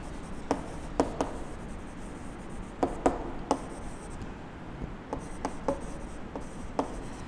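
Pen strokes scratch across paper as numbers are written by hand during a complement-subtraction exercise, coming as short, separate, close-up scribbles and taps spread unevenly over a quiet background, with no talking.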